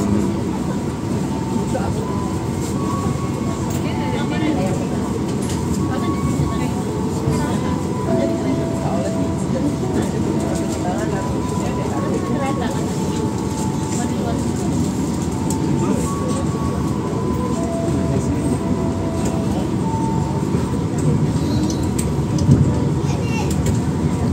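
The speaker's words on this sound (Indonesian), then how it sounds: "Saatnya kereta api Jayabaya Utara ini diberangkatkan menuju stasiun tujuan akhir, Stasiun Pasar Senen" Steady low rumble of the Jayabaya economy passenger train departing a station in Indonesia, continuous and fairly loud, with faint tonal squeals and some background voices.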